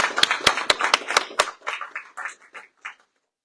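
At a Sea Cadets award ceremony, a handful of sharp, close hand claps ring out in a brief, sparse burst, followed by quieter scattered sounds that fade into silence.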